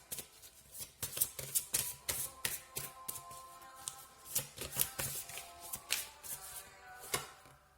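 Oracle cards shuffled by hand before a draw, a quick run of crisp papery riffles and flutters repeating steadily at close range with no voices.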